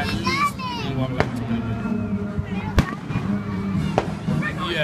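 Fourth of July fireworks pop and crack in sharp separate bursts, a few loud reports among distant crackling, while people and children talk and call out nearby.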